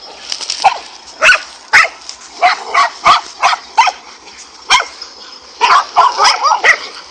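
A pack of dogs fighting a cobra barks repeatedly: sharp, close barks come in irregular bursts, with some yips mixed in, and no talking.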